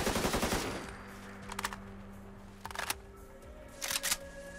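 Automatic gunfire from a modded weapon in Fallout 4. A dense rapid burst opens the clip, then three short, sharp clusters of shots follow at intervals over a quiet background hum.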